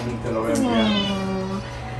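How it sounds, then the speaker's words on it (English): A frightened cat in a Halloween costume gives a drawn-out, wavering meow, close and fairly loud over a steady low hum, with faint talk in the background. "He was scared of the cat."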